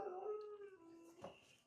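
A pet dog begging for food at a kitchen table whimpers and whines in a long, high, drawn-out tone, close and faint, followed by a brief softer yelp.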